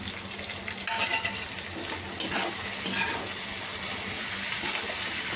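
Tomatoes and peas sizzle and fry steadily in a pan with turmeric, a soft continuous crackle with occasional stirring scrapes, fairly quiet and close, no talking.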